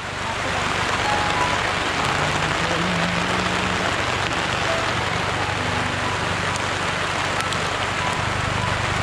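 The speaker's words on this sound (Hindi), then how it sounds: "अब ये बारिश में हम बैठे हुए हैं" Steady rain patters continuously on a surface in a Himalayan village in Uttarakhand, a dense, even hiss lasting the whole time with faint low murmurs underneath.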